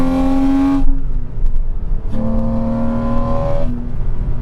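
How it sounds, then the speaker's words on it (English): A 2006 Porsche 987 Cayman S flat-six engine revs up twice, close and loud, each rising burst of throttle dropping back to a lower idle between them, with no talk. "The flat six on this car is absolutely glorious."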